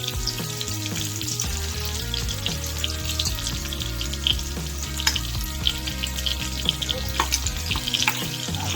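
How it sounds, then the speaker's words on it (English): Bacon fries in a pan with a constant close sizzle and scattered pops and crackles, over steady tonal background sounds. "Bacon's real easy to cook, but it's also real easy to burn."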